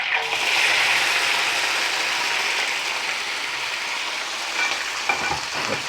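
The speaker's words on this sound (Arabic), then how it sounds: "الزيت هي بدات كتسخن، اذا غادي نديرو هاد الخضار هادي كامله." Vegetables frying in hot oil in a paella pan, a loud, continuous, close hiss and crackle of sizzling that holds steady throughout, with a couple of faint scrapes near the end and no talking.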